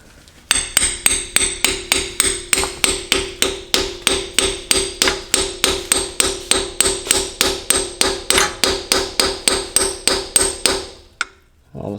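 A hammer drives a shift rod seal home through a socket with a steady run of about thirty evenly spaced metallic strikes, close and ringing, ending in a brief pause.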